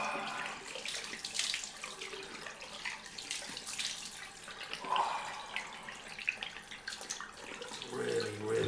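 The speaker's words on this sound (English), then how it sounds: "let's do the cold rinse" Cold water runs steadily from a bathroom tap during a rinse after a straight-razor shave, a close, continuous splashing hiss with small spatters and shifts in the flow.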